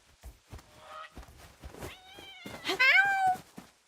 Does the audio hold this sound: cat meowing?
yes